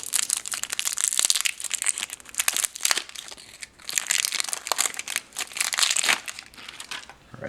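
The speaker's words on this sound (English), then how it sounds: "it's a little bit brittle and flakes off, so it's kind of hard to unwrap" A brittle, flaking wrapper is peeled off a 1985 survival ration cornflake bar. The crinkling and crackling is loud and close, running continuously with short breaks.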